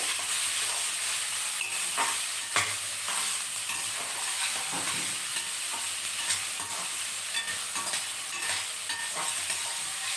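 Onions frying in a pan for a cauliflower curry, a steady broadband sizzle running throughout with occasional stirring scrapes, close and fairly loud, no voices.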